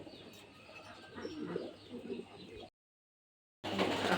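Blue bar racer pigeons coo softly and steadily at close range, a low murmuring burble with a few chirps, broken by a brief gap of silence before the cooing resumes.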